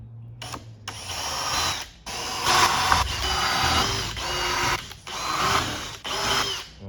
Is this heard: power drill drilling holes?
yes